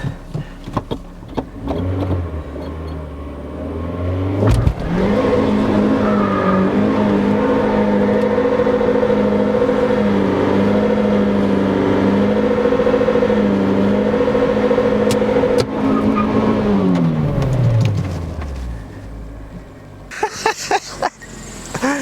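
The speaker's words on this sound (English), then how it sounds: "let's see if we can use this space to do a burnout in this" Ramp truck revving hard for a burnout, the engine climbing to a loud sustained high-rev roar that holds for over ten seconds before dropping back, with clunks and knocks before and after.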